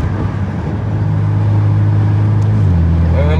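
A Mustang driving with its turbo spooling: a steady, loud engine drone fills the cabin, with a rising whine and a slight pitch shift near the end.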